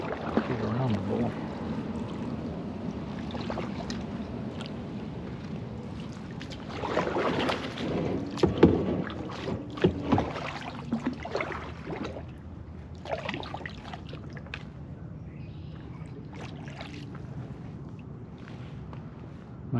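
Kayak out on a calm, glassy Florida sea at sunrise, with soft splashing and water swishes from a double paddle, close to the microphone under light wind noise, and a person speaking in places.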